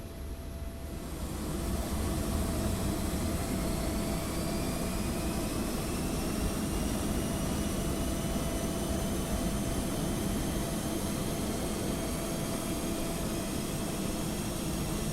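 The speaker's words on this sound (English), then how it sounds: "each pack spooling up, and you get that sort of roar from the back of the packs" A steady, loud roar of airflow from a simulated Boeing 777's air conditioning packs builds in the first second or two and holds, with faint rising whines of fans spooling up beneath it.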